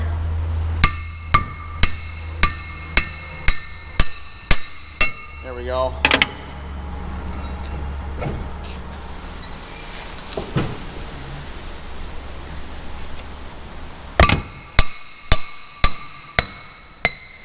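A hammer taps a part onto a corn head during a rebuild, giving a run of sharp metallic clinks in steady rhythm, a pause filled with brief speech, then another quick burst of taps close by.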